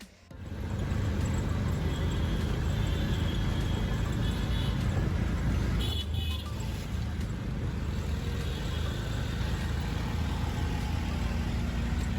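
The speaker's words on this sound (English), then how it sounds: "I need to show you my first ride in the tuk-tuk or rickshaw" A tuk-tuk auto rickshaw rumbles through Indian traffic, its engine drone and road noise loud and constant from the first second to the end, with faint surrounding traffic and no speech.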